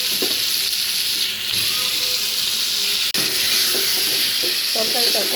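A curry of potato and eggplant fries loudly in a pan as egg goes in, making a continuous hissing sizzle close by with light stirring clinks, and a brief sharp dropout partway through.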